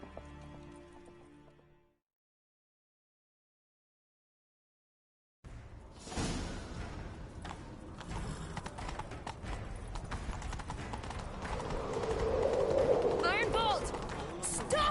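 Rapid hoofbeats of galloping horses in the video game The Witcher 3: Wild Hunt, loud and close, under a busy wash of noise after a brief pause.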